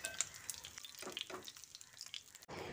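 Soybean chunks fry in oil in a pan, giving a faint, steady crackling sizzle for a few seconds before a brief break near the end.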